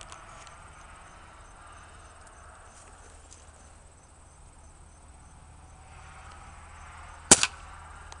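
A Crosman Remington Airmaster 77 BB gun fires once at a can, a single sharp snap with a quick second tick, heard against a steady outdoor background of chirping insects.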